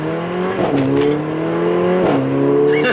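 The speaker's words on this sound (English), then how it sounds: "there's a little bit more rumble coming off the exhaust, and the exhaust is now in sports exhaust mode as well" Mercedes-AMG A45 with its exhaust in sport mode accelerating hard, a loud rising engine tone climbing through gears with brief dips at each shift, close and continuous, no talk.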